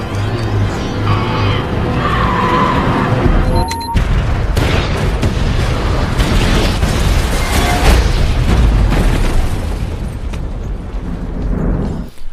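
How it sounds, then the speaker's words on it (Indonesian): A bomb detonates in the film I Am Legend, a loud sustained explosive roar with a sharp crack partway through, followed by heavy rumbling and debris noise lasting several seconds. "Ia pun meledakkan bom yang telah dipasang."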